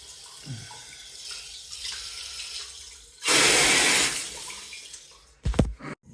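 Water rushing steadily from a tap or fill valve while refilling a leaking home heating system, loud and close for a second or so, with quieter water trickles and clunks around it.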